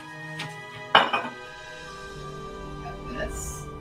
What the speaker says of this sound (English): We're going to get a little dish to put them in.